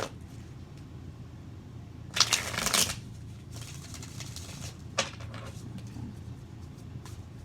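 Tarot cards are riffled and shuffled close by in a couple of quick bursts, with softer flicks and a sharp snap in a quiet room.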